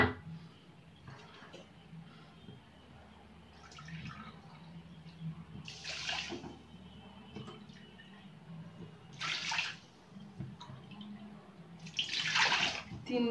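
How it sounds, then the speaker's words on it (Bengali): Water poured from a bowl into a pan holding sugar, several separate splashing pours spaced a few seconds apart, close and moderately loud over quiet background. "আর এই বাটি 4 বাটি আমি জল দেবো।"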